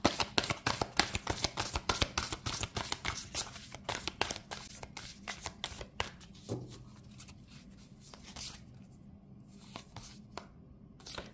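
Oracle cards are shuffled in a quick, close run of riffling slaps for several seconds, then a slower draw with soft sliding and a few light taps, with no speech.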